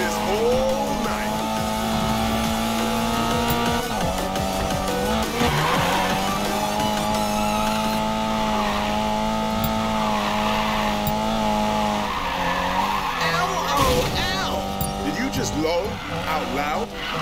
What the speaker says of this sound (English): Just get to a high speed, then steer hard.